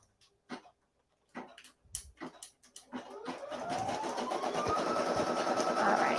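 An embroidery machine satin-stitches a name. Clicks and a brief voice come first, then the motor starts and builds to a steady, rapid, rising mechanical hum.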